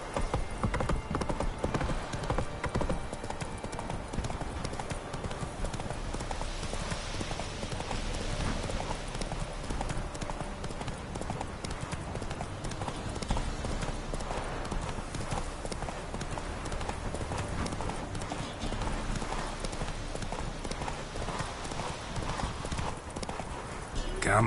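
Horse hooves in The Witcher 3 video game: continuous galloping clip-clop under game ambience and music, steady and close, with a voice speaking over it.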